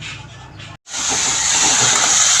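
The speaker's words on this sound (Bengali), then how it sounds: "চিংড়ি মাছ ভাজা হচ্ছে" Prawns frying in hot oil in a home kitchen give a loud, steady sizzling hiss that starts after a brief gap and holds strong to the end.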